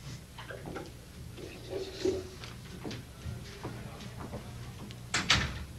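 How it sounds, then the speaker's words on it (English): A door is closed in a meeting room at a 1989 AFSCME labor party gathering: a muffled, fairly close thud near the end stands out over low room rumble and scattered background noise, with no talking. "I wonder if we could close that door."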